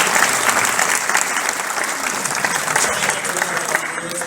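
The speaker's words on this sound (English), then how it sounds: "You could applaud Jenna too" Applause at the 2021 Catalina Film Festival awards ceremony, a crowd clapping steadily and fairly loudly for a few seconds with a faint murmur of voices beneath.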